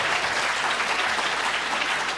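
A conference audience at a political question-time session applauds, a dense, even wash of clapping that holds steady throughout.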